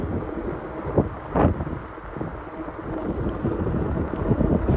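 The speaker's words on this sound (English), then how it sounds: "we got pretty strong wind going" Strong wind buffets the microphone while riding a Ninebot scooter on a trail, with rumbling gusts and low roaring surges, loud and continuous, with no talk.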